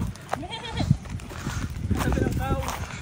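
A person imitates a goat's bleat, a wavering nasal cry repeated a few times, near and fairly loud, mixed with other voices talking.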